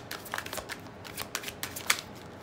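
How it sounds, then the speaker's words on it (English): Tarot cards being shuffled in a loose, sloppy way, a string of quick, soft riffling snaps and flicks close by and fairly quiet, with no voices. "You can see here I'm kind of having a little bit of a sloppy shuffle."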